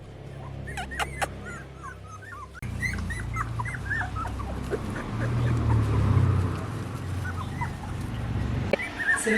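Young street-dog puppies in Thailand whimpering and yipping as they explore a yard garden, several high thin whines and cries repeating over a steady low outdoor hum.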